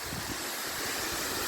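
Heavy flood water surging through the gates of the Kinnerasani project dam in Khammam, a loud, steady broadband roar that fills the clip without pause and drowns everything else.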